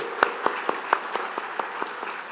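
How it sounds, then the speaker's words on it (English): Sparse, scattered clapping from a small audience, about ten distinct claps spaced unevenly over two seconds and fading slightly toward the end. "can we give him one more round of applause for giving us all that vital information?"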